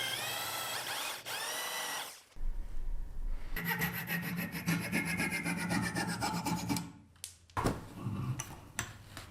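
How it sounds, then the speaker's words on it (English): A power drill whines and grinds into the wood of a mid-century chair, drilling dowel holes in steady bursts, with short pauses between holes and some close handling noise. "I had to drill some holes for the dowel so I can connect it to the chair."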